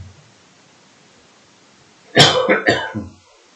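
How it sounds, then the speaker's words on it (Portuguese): A few harsh coughs in quick succession from someone with a cold, close and fairly loud, after a stretch of near silence. "Desculpa aí pela tosse"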